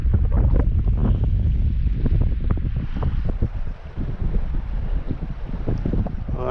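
Strong wind buffets the microphone on open water during a squid-fishing outing, a loud continuous rumbling roar with gusty surges throughout.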